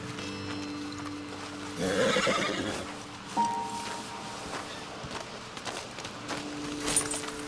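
A horse in the Red Dead Redemption 2 video game lets out a loud whinny and snorts nearby, with soft hoof steps and rustling in a quiet outdoor setting.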